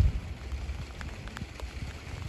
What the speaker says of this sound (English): raining harder now.